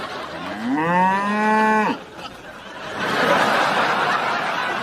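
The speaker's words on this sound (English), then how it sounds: "Bad cow! Bad cow!" A cow moos loudly and close by in a long, rising then steady bellow lasting nearly two seconds, followed by a burst of noisy commotion.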